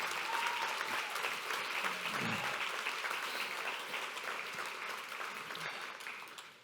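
An audience at a Hall of Fame award presentation breaks into sustained applause, a dense wash of clapping that holds steady and then slowly tapers off.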